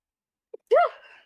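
A single sharp sneeze close to the microphone, preceded by a brief small intake sound, then quiet.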